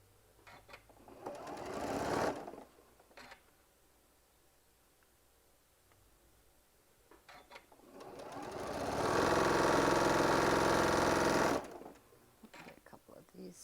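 A sewing machine stitches a quilt panel in two bursts, a short run early and a longer, louder whirring run later, with quieter handling sounds and a voice speaking between them.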